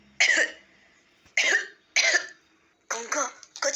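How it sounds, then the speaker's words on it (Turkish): Four sharp coughs from a young person taking an exam, each one short and close with gaps between, the last pair quicker and rougher. "4 kere mi öksürdün, ne yaptın?"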